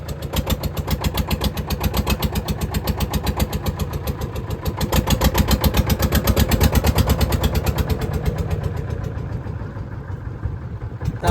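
A boat engine runs steadily close by on a river crossing, its regular chugging throb holding even and loud with no voices over it.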